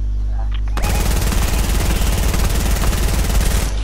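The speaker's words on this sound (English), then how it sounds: "I don't get where they're shooting." Rapid automatic gunfire from a Fortnite match erupts after a brief quiet start and runs loud and continuous to the end, with a voice faintly audible beneath it.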